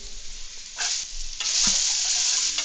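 Chopped onions sizzle and fry in a pot while a spoon stirs them, giving a steady close hiss that swells louder partway through, with no talking.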